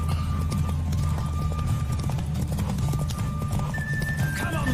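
Horse hooves clip-clop at a steady gallop in The Witcher 3 video game, a loud, continuous rhythmic pounding with a brief whinny, accompanied by game music.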